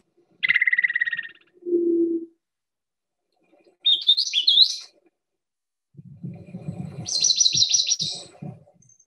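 Four clearly varied recorded bird song phrases play one after another, with sharp quiet gaps between them: a buzzy high trill, a lower whistle, a rising warbled phrase, then a longer bright burst over a lower rumble.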